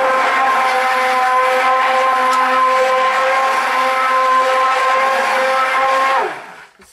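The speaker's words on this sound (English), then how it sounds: "This is another stick blender." A loud stick blender runs steadily, mixing cold process soap batter, with a constant motor whine for about six seconds before it switches off and spins down.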